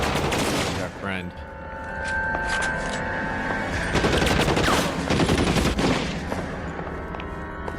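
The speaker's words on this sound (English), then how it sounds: "somebody's up top shooting at me" Gunfire in the L.A. Noire video game during a rooftop shootout, with bursts of rapid shots and scattered single cracks over background game sounds and shouting voices.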